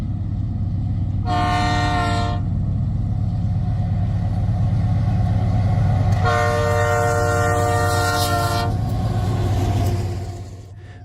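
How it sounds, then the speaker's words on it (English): Long loaded freight train rolling past with a continuous heavy rumble of wheels on rails, broken by two loud, sustained horn blasts, then fading at the end. "This train looks endless,"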